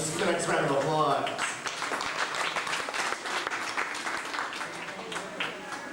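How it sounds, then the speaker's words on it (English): A crowd at a studio backlot tour stunt show claps, a lively patter of many hands with a voice talking over it near the start and the applause continuing under speech. "Let's just give the next round of applause."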